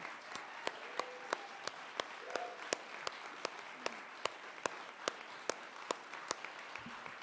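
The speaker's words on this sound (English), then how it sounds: "How about a big thank you and a round of applause for Mary Ross?" A sparse round of applause for Mary Ross at a KVMR radio station general meeting: a handful of sharp, fairly distant claps at an uneven pace, with a soft murmur of people underneath.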